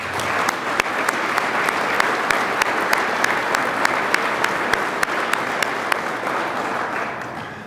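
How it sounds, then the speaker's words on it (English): Steady applause from a crowd at a detention officer graduation ceremony, sustained clapping at an even level throughout with scattered sharper claps standing out. "could I offer a round of applause for their hard work and dedication?"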